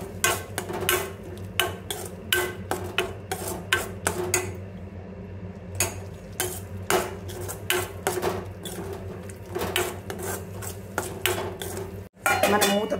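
Tomato paste with ginger-garlic paste frying in oil in a pan for tomato curry, steady sizzle under repeated metallic clinks and scrapes of a spoon stirring against the pan, alone without talk.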